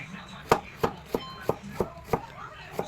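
Sponge gourd (kabatiti) sliced with a knife on a board, eight sharp, evenly spaced chopping knocks in a steady rhythm, close and clear with quiet room tone between.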